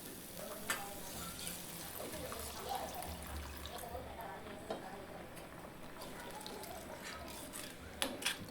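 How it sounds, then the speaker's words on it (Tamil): Tamarind water is poured into thickened masala in a kadai for dry ginger kulambu, giving a soft watery trickle and gentle stirring sizzle beneath a voice. "இந்த ஸ்டேஜில் நம்ம கரைச்சி எடுத்துருக்கிற புளி கரைசலையும் இது கூட சேர்த்துக்கலாம்"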